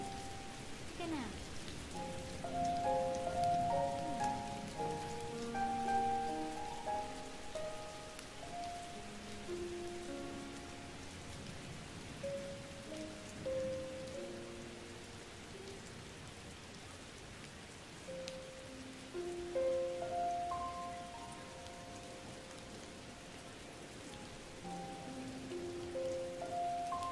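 Rain falls steadily in the background, soft and constant, beneath a melodic music score that plays over it.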